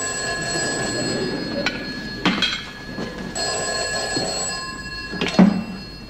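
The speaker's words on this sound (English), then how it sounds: "There's your phone." An old-fashioned telephone bell rings in repeated bursts in a radio comedy show, its steady metallic tone clear with some faint thuds between rings and no voices.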